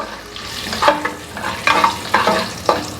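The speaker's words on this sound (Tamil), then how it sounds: "பச்சை மிளகாவை எண்ணெயிலே வதக்குறோம்" Green chillies sautéing in oil for an egg biryani made in a pressure cooker: a close, loud sizzle with several bursts of stirring scrapes at an uneven rhythm, no voices present.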